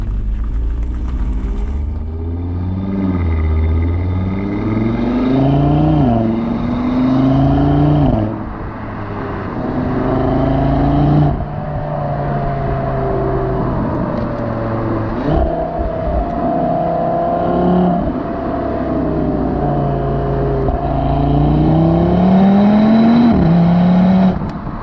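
Audi RS3 engine revving repeatedly, loud and close, with rising and falling pitch sweeps as the throttle is blipped and released over a steady idle, no talking.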